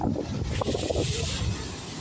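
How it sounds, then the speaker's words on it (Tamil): Strong wind roars steadily and buffets the microphone beside a fast-flowing pond, with a broad rushing noise that never lets up. "சரியான காற்று மடிக்குது"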